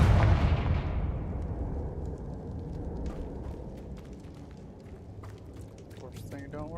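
A Confringo fire spell cast in Hogwarts Legacy lets out a loud explosive boom that dies into a long rumbling decay, with faint crackling scattered through the tail.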